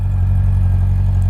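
A fuel-injected Honda CB400 motorcycle engine idles close by, a steady low hum with an even throb and no talking over it.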